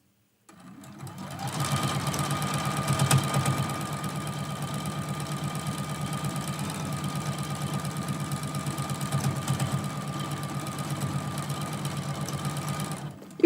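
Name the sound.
sewing machine stitching quilt seams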